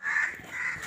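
A crow perched on an iron cage at a nature park gives two harsh caws, the first longer and louder, the second after a short gap, near and clear with no speech.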